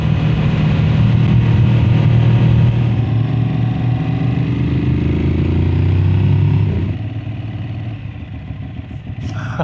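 A rental motorbike's engine drones loud and close, holding a steady rumble before easing off and fading slightly as it settles, with no one talking.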